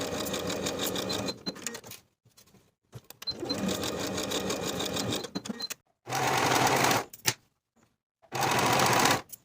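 A sewing machine stitches the shoulder seams of a dress bodice with a 1/2 inch seam allowance, running in four steady bursts of quick whirring with brief stops between them.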